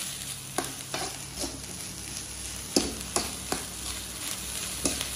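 Food stir-fried in a pan in a home kitchen: a steady close sizzle runs throughout, punctuated by sharp scraping clanks of the utensil against the pan at irregular intervals.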